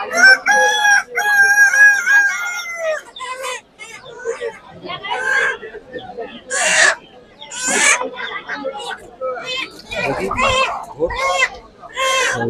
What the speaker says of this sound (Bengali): উজ্জ্বল দুটো মুরগি নিয়ে এখন দেখছে কোনটা নেবে।